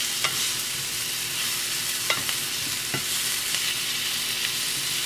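Seasoning is stirred in a hot frying pan with steady sizzling, punctuated by several light scraping and clinking strokes of the utensil, close and clear, with no talking.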